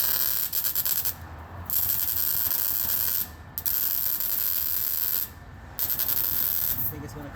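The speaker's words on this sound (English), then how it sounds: "now we're going to weld the bolt to that molten slag and hope it comes right out" Welding a bolt onto molten slag to pull a broken rear differential bolt from a 2012 Honda Pilot, heard as a loud, steady crackling buzz in long bursts broken by three short pauses.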